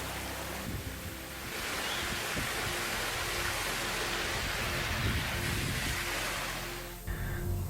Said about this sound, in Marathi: वरून एक धबधबा येतो बघा छोटासा असाच धबधबा